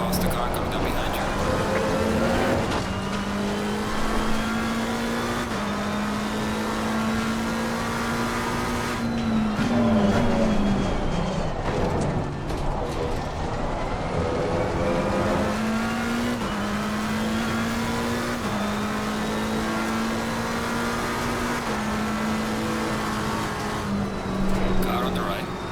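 GT race car engines in the Assetto Corsa Competizione racing game at Imola, a steady loud engine drone rising and falling through gear shifts, with other cars nearby, running the whole time under a spoken voice.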